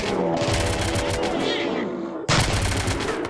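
Dense, continuous gunfire in the video game RimWorld, with overlapping rapid shots during an animal hunt, a brief dip then a sharp renewed burst, under game background noise.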